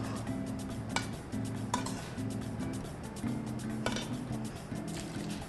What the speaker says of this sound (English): with some tongs, you can start to toss and mix them together